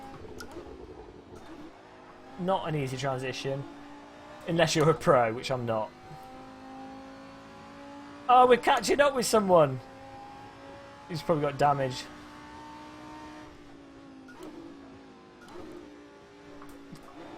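A GT race car engine lapping Brands Hatch in a racing game, a steady rising and falling drone with revving surges while someone talks over it at length.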